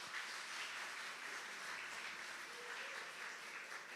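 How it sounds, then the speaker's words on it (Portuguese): Congregation at a Portuguese-language church service applauding together, a steady, sustained wash of many hands clapping at moderate distance, with no break across the whole stretch. "Aplauda o Senhor"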